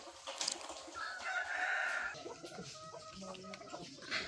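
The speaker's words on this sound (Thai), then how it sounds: "ไก่นี่กินบักฮุงนี่" Chickens feeding on papaya cluck nearby while a rooster crows loudly once, the crow rising and holding for about a second amid scattered clucks and outdoor background noise.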